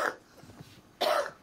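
A male patient coughs twice in a hospital emergency department, two close, forceful bursts with a short quiet gap between them.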